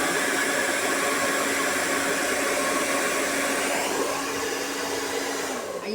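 Hair dryer blowing steadily while drying hair, a loud continuous whoosh with an even motor whine that shifts slightly in pitch near the end, no talking.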